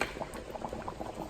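Jamaican-style cow foot stew simmering in a pot, a close, soft continuous bubbling with small irregular pops throughout, no voices.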